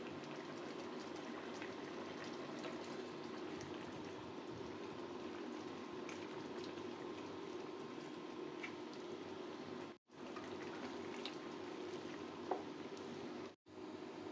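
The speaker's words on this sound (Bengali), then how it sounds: "বাগার দেওয়ার জন্য তেল, এলাচ, দারচিনি, লবঙ্গ, আস্ত জিরা দিয়ে দিলাম" Hot oil crackles softly as whole cardamom, cinnamon, cloves and cumin are fried for a bagar tempering, a continuous low sizzle with two short breaks near the end.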